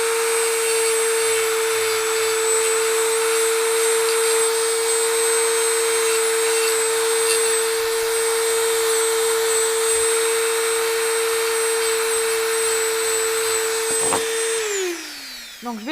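A Dremel Stylo+ pen-style multi-tool sands a piece, giving a steady high motor whine that holds loud and constant before spinning down near the end.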